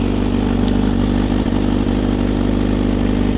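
A 2013 Honda CBR600F idles with a Black Widow exhaust, baffle fitted, giving a steady, close, even tick-over rumble with no talk.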